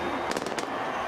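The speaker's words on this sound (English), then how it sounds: "There's going to be explosions and fireworks before the game gets underway as the teams run out." Pyrotechnic bursts before the 2015 Las Vegas rugby sevens Cup final between Fiji and New Zealand, a quick cluster of four or five sharp cracks over a dense stadium crowd roar.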